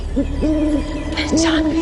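Owl giving repeated hollow hoots with a harsher screech-like cry partway through, close and prominent over a steady background hiss, with no speech.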